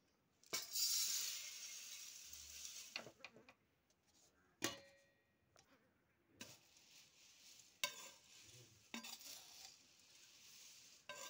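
Flattened rice dry-roasted in a hot wok, with intermittent scraping and stirring strokes of a spatula against the metal, separated by quiet pauses, close by.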